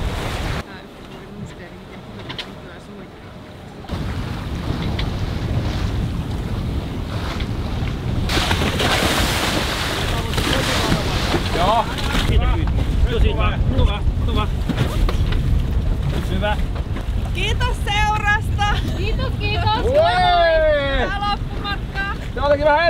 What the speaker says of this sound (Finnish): meillä on niin upea tuuli